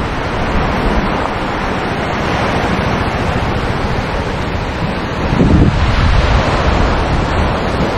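Ocean surf rolls steadily onto a long, empty beach at Hua Hin, a continuous loud wash of breaking waves with wind buffeting the microphone and a slightly stronger surge near the end.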